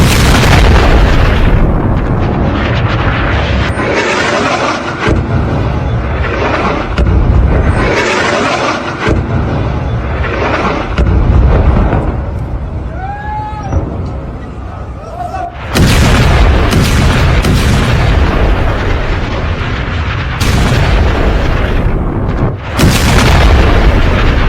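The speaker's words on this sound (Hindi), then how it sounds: "एक के बाद एक कई धमाके हुए" Repeated heavy explosions from Israeli missile strikes in Lebanon roar one after another, loud and broadband, each blast followed by rumbling, while voices are heard among them.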